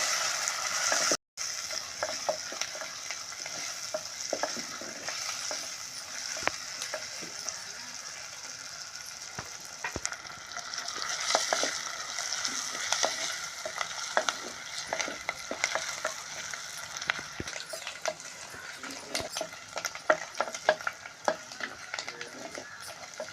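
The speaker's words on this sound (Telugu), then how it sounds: "ఇప్పుడు రొయ్యలు వేద్దామండి రొయ్యలు అయితే బాగా వేపుకోవాలండి పచ్చి ఉండకూడదు" Prawns fry in a pan with a soft, constant sizzle, while repeated scraping and clicking stir strokes sound up close throughout; nobody speaks.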